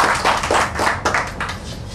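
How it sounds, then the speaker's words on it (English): An audience applauds at a personality development programme to welcome a speaker, a dense, steady wash of clapping that stays even and loud throughout. "Please give us a round of applause."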